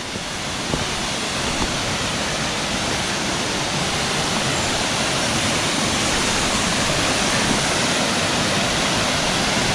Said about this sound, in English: And there it is, the epic Thomasson Foss waterfall